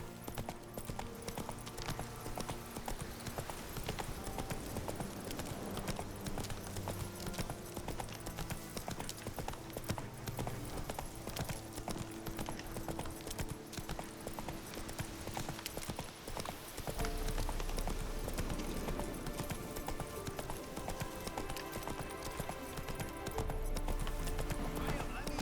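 Hooves of the horse Roach clip-clopping in The Witcher 3, a steady rhythmic trot under game music, with voices talking over it.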